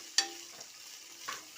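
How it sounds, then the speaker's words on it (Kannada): Carrots for vegetable pulao fry and are stirred in a pan with a faint continuous sizzle, broken by two sharp clinks of a utensil against the pan. "ನಂತರ ಗಜ್ಜರಿಯನ್ನು ಹಾಕಬೇಕು. ಹಾಕಿ ಚೆನ್ನಾಗಿ ತಿರುವಬೇಕು."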